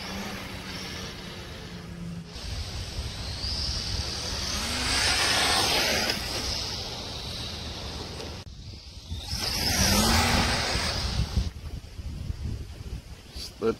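A Wltoys 12428 brushless RC truck with sagging axle spacers races past at speed, its motor whine and tire roar swelling and fading as it passes twice, with wind noise and no talk.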